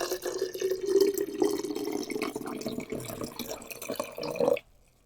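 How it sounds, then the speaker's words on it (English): Water is poured steadily into a quart-sized glass jar holding blueberries, a continuous close trickle and gurgle for several seconds, its pitch rising slightly as the jar fills, before stopping abruptly. "We're going to be adding 2 cups of water, 1 pint of water into our quart-sized jar."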